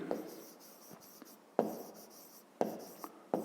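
Pen strokes scratch across paper as a digit is written for a fifth-grade maths exercise, a few sharp taps and short scrapes in quick bursts, close and clear with no talking.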